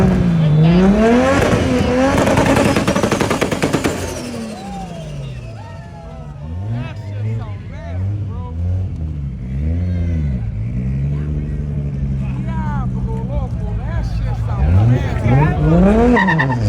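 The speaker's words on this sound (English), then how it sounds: "a Toyota Supra, a real Toyota Supra, two-stepping while leaving the car show" A Toyota Supra leaves a car show with loud tire screeches and revving exhaust, rising and falling engine sweeps with pops as it two-steps nearby, while a crowd chatters and shouts over it.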